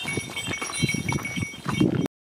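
A donkey walking on a countryside hike, its hooves clip-clopping in a quick uneven rhythm, close and moderately loud.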